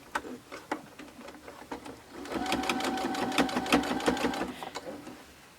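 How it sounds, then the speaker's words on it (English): A sewing machine stitches through a pin-studded pincushion, starting with a few slow, separate ticks before running at a fast, steady mechanical clatter up close. "So I'm going to take this to my sewing machine, and careful, because these pins do get in the way when sewing."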